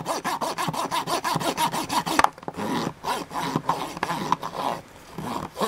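Rapid back-and-forth scrubbing of a cleaner-soaked Q-tip across an NES game circuit board, a steady rhythmic rasping run close up that pauses briefly midway and then continues alone.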